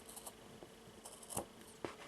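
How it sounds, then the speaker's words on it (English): Scissors snip the end of a knotted friendship bracelet cord, giving a few faint, sharp clicks and snips close up against a quiet room. "I will take the scissors and cut"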